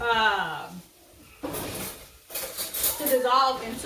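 A spoon stirring a gumbo roux in a pot, scraping and clinking against the metal sides in short bursts between stretches of talking.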